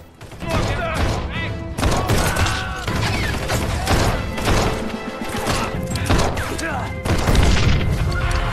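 Loud, chaotic bursts of Nazi soldiers' gunfire in a war film scene, with heavy thuds and crashes, rattling on and off throughout, with shouting voices mixed into the noise.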